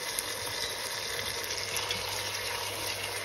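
Minced meat and carrots cooking in oil in a pan, giving a faint, steady, even hiss of gentle frying with no voices.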